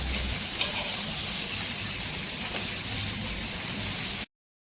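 Bombay duck (bombil) fish frying in oil on a tawa, a steady close sizzle with broadband hiss and faint stirring, no talking, ending abruptly.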